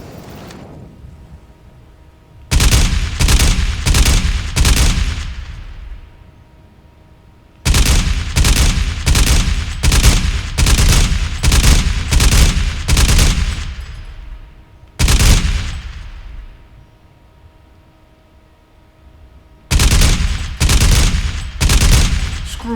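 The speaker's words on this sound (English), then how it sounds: "Shooting through the shrubbery." Rapid bursts of automatic gunfire in Crysis Remastered, fired through shrubbery, come in three loud volleys of close, sharp repeated shots, each burst trailing into a fading echo before the next.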